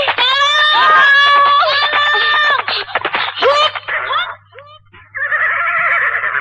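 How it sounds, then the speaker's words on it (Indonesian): Several people scream loudly for help, fleeing robbers in an Indonesian Saur Sepuh drama, with high, strained cries in long repeated bursts, a short gap, then another sustained shriek close up. "Kenapa berteriak-teriak minta tolong?"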